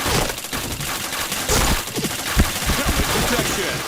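Automatic weapons fire in a shooting video game in fast, crackling bursts with sharp single shots mixed in, while a person talks over the action.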